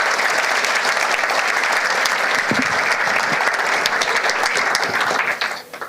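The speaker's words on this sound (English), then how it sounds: "So warm applause for Theo." A conference audience at a makeathon opening gives steady, dense applause that stays loud and even throughout, then thins and tapers in the final moment.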